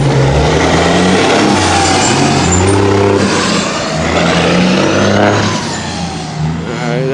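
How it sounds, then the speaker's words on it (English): A loud truck engine drives past close by on a neighborhood street, a heavy droning rumble with shifting tones as it accelerates, filling the whole stretch before easing slightly toward the end. "that truck made a lot of noise."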